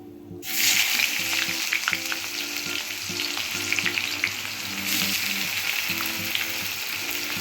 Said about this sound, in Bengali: এবার দেখো পেঁয়াজ কুচি দিয়ে দিচ্ছি